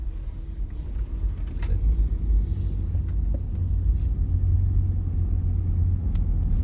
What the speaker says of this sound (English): let's start driving down here